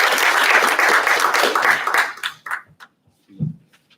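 Audience applause at a social welfare policy meeting and agreement signing, loud dense clapping for about two seconds that thins out and stops, leaving a few scattered claps and faint room sounds.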